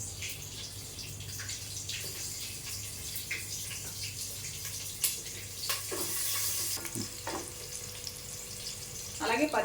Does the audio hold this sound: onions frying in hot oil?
yes